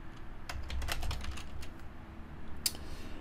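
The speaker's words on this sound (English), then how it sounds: "We're going to type in Google Classroom." Typing on a computer keyboard, a quick run of light key clicks heard up close with no talking, ending in a single sharper keystroke.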